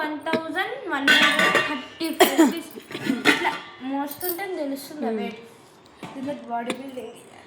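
Steel kitchen utensils clink and clatter as they are set down, bright metallic knocks scattered beneath a person speaking throughout.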